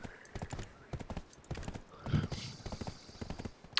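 A horse galloping in Black Desert, its hooves clip-clopping in a quick, steady rhythm throughout, with a brief whinny partway through, fairly close and moderately quiet.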